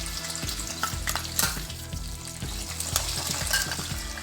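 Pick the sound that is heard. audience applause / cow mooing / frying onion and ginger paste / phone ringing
frying onion and ginger paste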